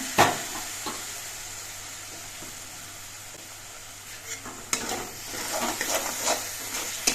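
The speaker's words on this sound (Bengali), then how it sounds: "এবার নেড়ে মিশিয়ে নিয়ে মশলাটা কিছুক্ষণ কষিয়ে নিতে হবে" Spice paste of turmeric, dried chilli powder and a little water sizzles in a pan, with a soft steady hiss and scattered scraping stirs growing busier and louder toward the end.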